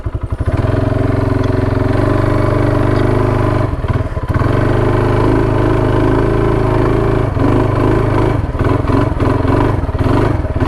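A Kawasaki 300 quad's engine drones loudly and steadily while it churns through very deep sand in low gear, with brief dips and revs as the load changes.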